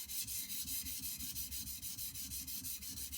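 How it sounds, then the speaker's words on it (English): Knife blade stroked along a whetstone from heel to tip, a close, steady rhythmic scraping with evenly spaced strokes about every fifth of a second. "starting at the heel, all the way down the stone"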